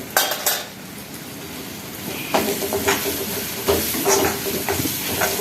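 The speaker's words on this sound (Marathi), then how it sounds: "मस्त असा मसाला भाजून घेऊया" Masala with roasted peanut powder cooks in a pan over a lowered gas flame, giving a continuous close hiss and sizzle with a few sharp utensil clinks and soft stirring scrapes, and no voices.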